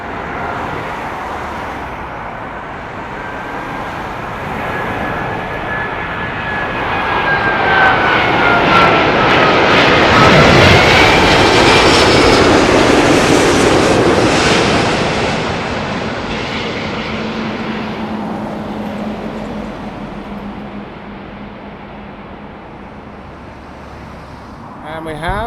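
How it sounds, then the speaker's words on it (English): A British Airways Airbus A380 jet passes over Heathrow Airport, its engine roar swelling from distant to loud and near around the midpoint, then slowly fading away with a lingering rumble. "The British Airways A380, King of the Skies."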